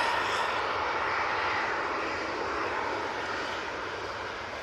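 An airliner bound back to Dublin comes in to land at Manchester Airport, its engines a steady, broad roar that holds loud and even throughout, then eases slightly toward the end, with no voices over it.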